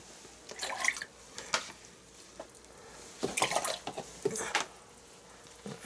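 Brush rinsed and dabbed in a pot of clean water while painting a watercolour pond scene, giving soft intermittent drips, splashes and trickles close by, with bursts around one and a half and three to four and a half seconds and no talking.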